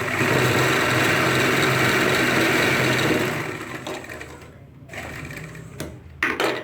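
A sewing machine stitches ladies' pants in a loud, fast, steady whir for a few seconds, then slows and stops, followed by a few short clicks and bursts.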